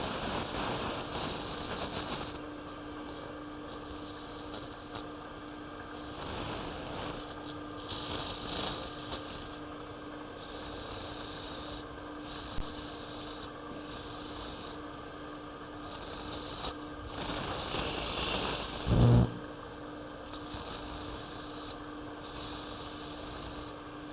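A glass tube holder being sanded by hand with 220 grit sandpaper, steady raspy rubbing strokes repeated in bursts with short pauses, close and fairly loud with no talking.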